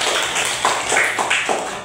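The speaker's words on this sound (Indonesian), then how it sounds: "Berikan tepuk tangan." Classroom applause from students during a religious education lesson, a short burst of dense, steady clapping from a group that lasts the whole moment.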